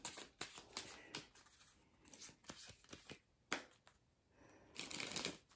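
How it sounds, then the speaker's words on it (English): A deck of St Patrick game cards is shuffled by hand on a tabletop, a series of quick riffling bursts and soft slaps in irregular clusters, close and crisp without speech. "So we'll shuffle these up a little bit here."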